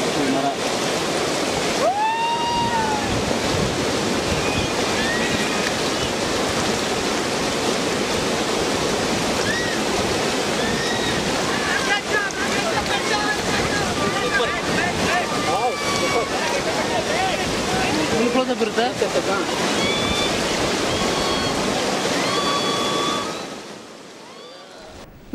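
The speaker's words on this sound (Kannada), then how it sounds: "ವಿಶಾಲವಾಗಿ ಹರಿತಾ ಇರೋ ಕಾವೇರಿ ನದಿ ನೀರಿನಲ್ಲಿ ತೇಲ್ತಾ ಇರುವ ಬಣ್ಣ ಬಣ್ಣದ ದೋಣಿ" Kaveri river rapids in Kodagu, heard during a rafting trip as a loud, continuous rush of churning water close by, with voices and shouts from the rafters over it and the roar fading near the end.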